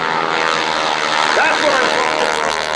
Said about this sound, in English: Make it the propellers fight the air at supersonic speed.